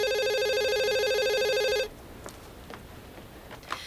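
A telephone rings with a steady, loud electronic trilling tone that stops abruptly after about two seconds, followed by faint room noise.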